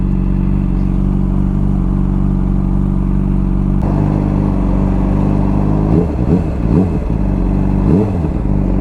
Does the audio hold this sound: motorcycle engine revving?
yes